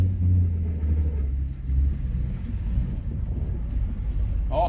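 A 2011-2014 Ford Mustang 3.7 V6 engine with a catted X-pipe rumbles steadily from inside the cabin on a test drive, low and continuous, with a brief rise in revs near the start and no voices.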